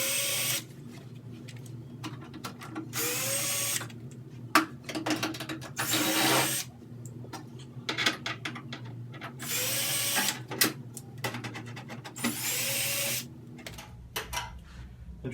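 A power drill whirs in repeated short bursts, about six of them with pauses in between, as it backs out the screws holding a panel on a clothes dryer during a noisy dryer repair. The drill is close and loud, and a low hum sits underneath.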